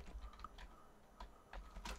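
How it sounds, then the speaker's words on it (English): Scattered clicks and taps on a computer keyboard at a desk, in several quick bursts with brief pauses, fairly faint over a low background hum. "press C on my keyboard for a caption"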